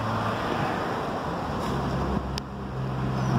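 A one-horsepower three-phase electric motor running a mechanical reciprocating hacksaw, giving a steady, moderately loud hum with a broad airy hiss that continues unchanged throughout.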